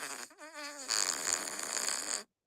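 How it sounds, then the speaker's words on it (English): A longer, louder fart from a phone fart app: a brief tonal squeak, then a sustained buzzing, sputtering blast of nearly two seconds that stops abruptly. "I knew this fart app was going to come in handy again"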